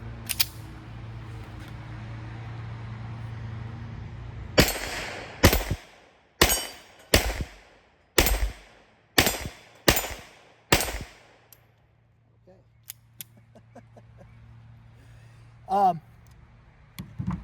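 Seven sharp shots from Colt 1903 .32 ACP and Colt 1908 pistols ring out in an irregular string, each a loud crack with a short tail, after a stretch of quiet outdoor hum; a brief faint voice follows later.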